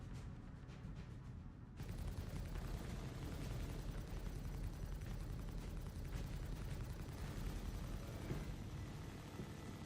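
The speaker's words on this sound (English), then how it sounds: "That Buccaneer would take a barrage of gunfire." Dense, continuous rumbling bursts of gunfire and explosions in Star Citizen, aimed at a Buccaneer ship. A quieter stretch opens the clip before the loud barrage takes over and keeps going without a break.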